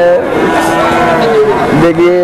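Cattle at a cow and buffalo calf market in Bangladesh lowing in long, loud drawn-out moos, one rising call near the end, with crowd noise and talk in the background.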